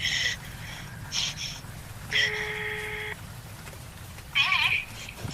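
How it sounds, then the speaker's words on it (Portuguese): A telephone rings in repeated short electronic bursts, each trill separated by pauses, fairly loud and close, with background noise beneath. "Atende logo o telefone."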